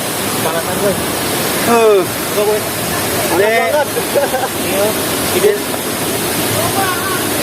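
Steady rushing water of Kalong Waterfall in West Lampung, Indonesia, roars continuously, with people talking over it.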